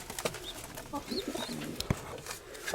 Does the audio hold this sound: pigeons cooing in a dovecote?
yes